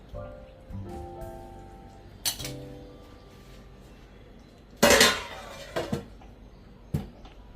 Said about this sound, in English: Let's close the lid.